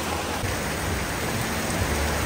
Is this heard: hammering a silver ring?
no